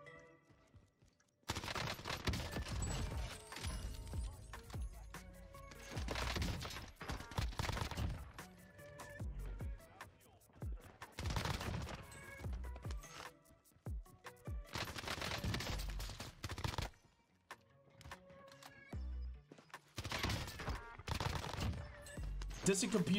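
OTS-9 submachine gun fire in Call of Duty: Warzone (Vanguard era) on Rebirth Island, loud repeated automatic bursts separated by brief pauses, with a voice talking over the gunfire.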